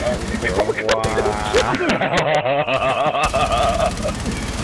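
Rapid gunfire bursts from the shooter game Rainbow Six Siege play during a Hibana ace, mixed under excited talk and snickering laughter that runs throughout.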